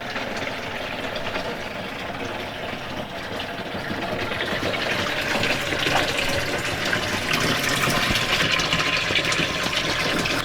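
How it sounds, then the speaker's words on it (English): Small aerator pump wired to a battery pulling water into a homemade boat livewell, a steady rushing gush of water that runs the whole time and grows slightly louder partway through, with no talking. "we have a second aerator on here to pull water in, which we're gonna do really quickly so this fish can breathe a little bit"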